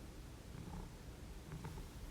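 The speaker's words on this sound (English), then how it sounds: "He's purring." A soft, low cat purr rumbles steadily and very quietly, close by, with no talking.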